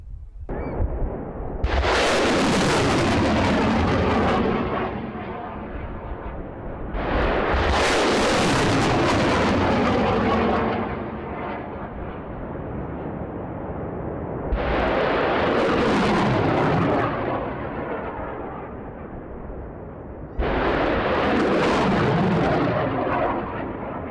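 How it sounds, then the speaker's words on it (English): A U.S. Marines HIMARS M142 launcher fires rockets at night in Norway. Four separate launches each give a loud, roaring blast lasting several seconds, with a lower rumble carrying on between them. "The HIMARS M142 fires a wide range of surface-to-surface rockets and missiles"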